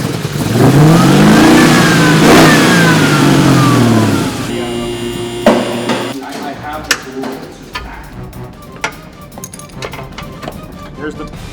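A Chevy engine revs hard, rising and falling in pitch for several seconds, then settles into a rough idle with scattered clicks and knocks.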